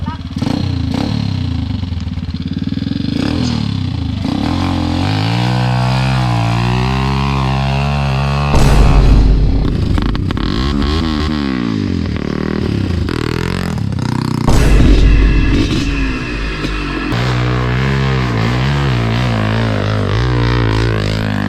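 Motorcycle engine revving and droning continuously at close range, pitch climbing and falling through repeated throttle pulls, with a couple of louder bursts, while people talk over it.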